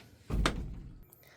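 A door shuts with a single soft thump, fairly faint and brief, followed by low room noise in a space with seedlings and growing plants.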